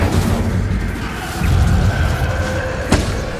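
Magic spell blasts in the Hogwarts Legacy video game, such as Bombarda explosions, land as loud booming thuds over a continuous rumble, with a sharp burst near the end.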